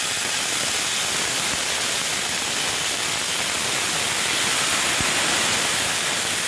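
Vinegar poured over a moussaka dish of fried eggplant and small tomatoes, heard as a steady, dense hiss that stays constant and loud throughout, with no voices.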